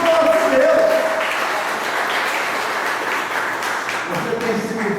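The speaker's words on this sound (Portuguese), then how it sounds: "Uma salva de palmas para nós," A church congregation applauds in sustained clapping that fills the space, with a voice briefly audible over it near the start and again toward the end.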